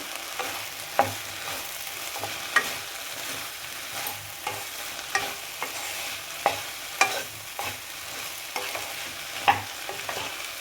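Cauliflower, drumstick and tomato curry with salt and turmeric stirred in a sizzling pan, the utensil scraping and knocking in a steady rhythm of sharp taps over continuous frying hiss, close and alone without any talking.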